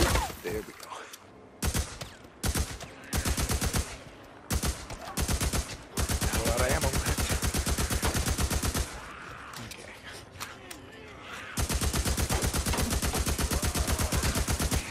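Gunfire in the Days Gone video game, a sidearm firing in rapid bursts, with short fast strings of loud, close shots separated by brief gaps, then longer sustained volleys.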